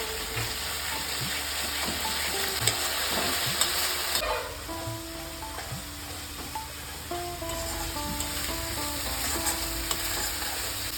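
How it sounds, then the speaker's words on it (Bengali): Masala paste frying for a potato and paneer curry, a continuous sizzle with a spatula scraping and stirring around the pan, plus faint tonal hums in the background. "মশলাটা বেশ কিছুটা কষানো হয়ে গেছে দেখুন"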